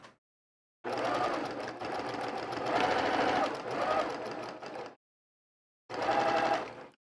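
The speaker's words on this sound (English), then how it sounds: "I'm going to go ahead and sew it." Sewing machine stitching a quarter-inch seam through quilt blocks, a close, steady whirring run of about four seconds, a pause, then a second shorter burst.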